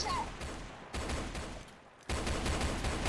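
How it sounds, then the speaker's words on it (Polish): Video-game gunfire arrives in close, loud volleys of rapid shots separated by brief lulls, with a faint voice underneath. "Ale się fajnie strzela"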